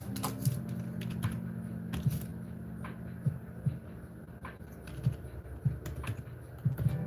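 A computer keyboard clatters with quick, uneven typing taps close by over a steady low hum, with no voices.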